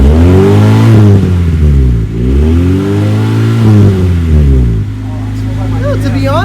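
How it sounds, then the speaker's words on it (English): An Acura Integra engine with its muffler removed revs up close and loud, rising and falling in repeated throttle blips with a raspy exhaust drone, then settles toward idle at the end. "see what this car sounds like now that it's got no muffler"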